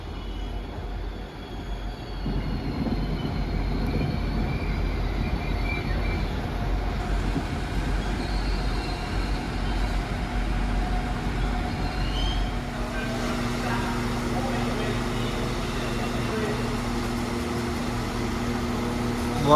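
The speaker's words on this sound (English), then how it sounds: "there goes the 1020 Transport for Wales service to Liverpool Central via Shrewsbury and Hereford from Holyhead" A Transport for Wales Class 197 diesel train runs past at Chester station, a steady, loud rumble of engine and wheels on rails throughout, with a rising tonal drone and faint squeal as it draws through.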